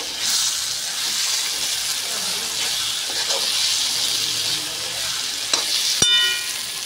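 Pav bhaji mixture hisses and sizzles loudly in a pan as it is stirred, with a steady frying roar and a couple of sharp clinks of the utensil near the end.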